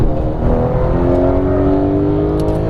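A Porsche GT3 engine pulls hard on a race track, a loud close droning note rising steadily in pitch as it accelerates, with no speech over it.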